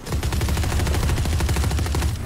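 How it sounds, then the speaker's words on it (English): Rapid gunfire from the video game Valorant rattles in a dense, loud burst of repeated shots that barely pauses for about two seconds. "I only hit him once out of the four bullets I shot"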